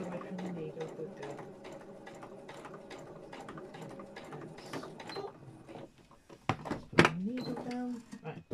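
A sewing machine stitches fabric in a fast steady whirr of needle strokes, then stops, followed by a clunk and some handling noise with voices talking nearby.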